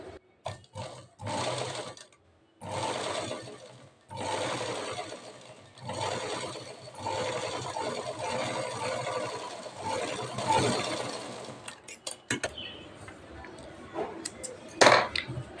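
Sewing machine stitching a princess cut blouse, running in long steady bursts with short stops, close and moderately loud, ending with faint clinks and handling.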